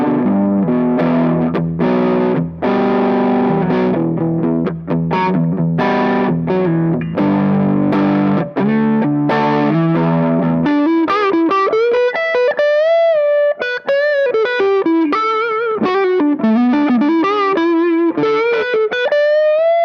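Ibanez JS100 electric guitar played through overdrive on the neck humbucker, first chunky distorted chords, then a melodic single-note lead line with bends, loud and alone.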